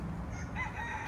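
Chickens cluck and a rooster begins to crow at a backyard flock kept in the United States, the calls moderately near over a dense background noise.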